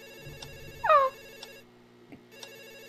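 A telephone ringtone from a video game plays as a steady electronic tone, broken by a brief rising chirp and a short gap, with no talking.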